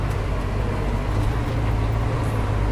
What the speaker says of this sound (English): So we'll just take off here. We're in first gear now.